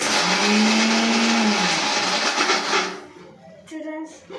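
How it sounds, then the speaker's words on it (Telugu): A mixer grinder whirs loudly while blending an Oreo shake, its motor pitch rising, then stopping near the three-second mark, followed by a voice speaking. "తీసుకొని మిక్సీలో వేసేసేయాలి. మిక్సీలో వేసేసాక ఆన్ చేయాలి."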